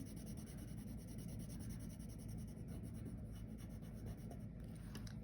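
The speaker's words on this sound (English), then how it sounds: "So you can go back and color in your pictures." Steady scratchy rubbing of colored pencil strokes on paper, continuous and close, with a faint rustle near the end.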